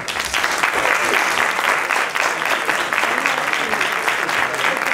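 An audience at a carnival crowning ceremony in Castellar de la Frontera applauds, a dense, steady roar of clapping that fills the whole stretch at close range.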